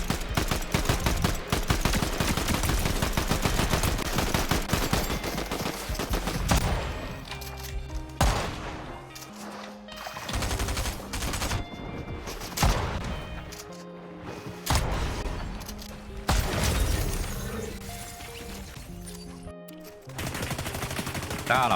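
Rapid automatic gunfire rattles through a new Fortnite season, with dense bursts that break into shorter volleys and single shots, loud and close, over game music and effects.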